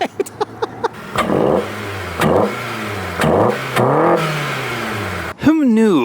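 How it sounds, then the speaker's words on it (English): A Honda car engine fitted with a homemade PVC intake revs in several rising bursts, loud and close, after a few sharp clicks at the start. "Who knew this car could sound so good with the proper intake?"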